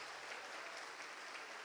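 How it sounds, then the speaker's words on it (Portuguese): A large church congregation keeps up loud, dense applause, a steady roar of many hands clapping close by, unbroken across the whole stretch. "uma grande salva de palmas"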